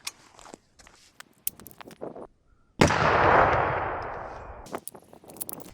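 A single rifle shot from a gun fitted with an FRT trigger cracks out loud and close, its blast decaying over about two seconds, framed by scattered clicks and handling noises before and after.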